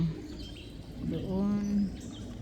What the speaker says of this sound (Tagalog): Masaya ang mga ibon.